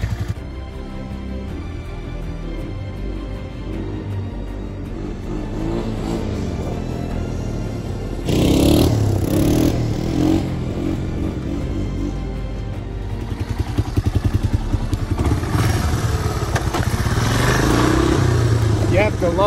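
A Honda ATC 250SX three-wheeler with a semi-automatic clutch idles and runs in hot Arizona summer weather, a steady mid-pitched engine drone that grows louder and rougher partway through, with some faint talk.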